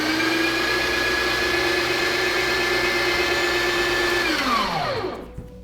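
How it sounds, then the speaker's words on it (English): Breville coffee burr grinder run empty to clear out leftover beans, a steady loud motor whine that holds for about four seconds, then winds down in pitch and fades as it shuts off. "run the grinder to get any excess beans out right off the bat"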